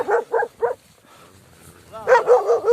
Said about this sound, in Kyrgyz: Буякта бир необычный тайган бар.